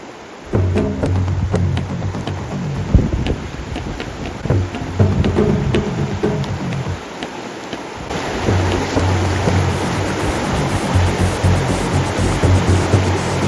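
A swift river rushes over rocks during a wilderness hike, a broad steady roar of flowing water heard close and loud throughout, with a few knocks and bumps near the start.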